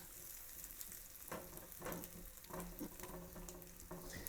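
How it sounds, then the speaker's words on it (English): Beaten eggs with vegetables for a Denver omelet sizzle softly in a frying pan while a utensil scrapes and taps against the pan every second or so, all fairly quiet. "we'll pour the eggs in and just move them around just a little bit so that the vegetables get evenly distributed throughout the eggs"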